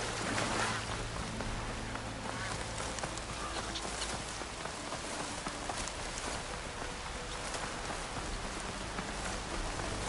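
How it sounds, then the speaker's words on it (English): Steady, dense rain pours throughout in the video game Horizon, a constant loud hiss with faint clip-clop of hooves mixed in and no talking. "Escaping this rain."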